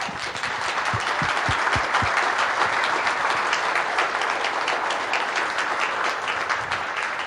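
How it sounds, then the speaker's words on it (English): Car assembly plant workers applaud together at a gathering in the Lansing body plant, a few sharp close claps at the start swelling into sustained, dense applause throughout. "you deserve a round of applause for that."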